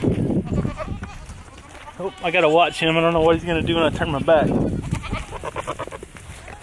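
Baby goats bleat loudly for their mothers in a farm pen, with a long wavering cry in the middle and shorter calls around it, while someone talks close by.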